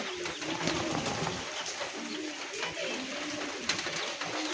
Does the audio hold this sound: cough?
no